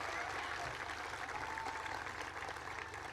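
A crowd at a US Army garrison event in Vicenza, Italy applauds Blue Star Families with continuous, even clapping at a moderate distance.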